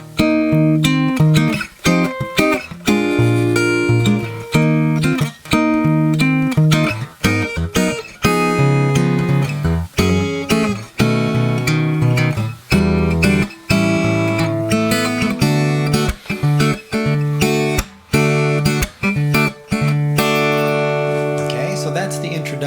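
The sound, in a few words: guitar playing a song introduction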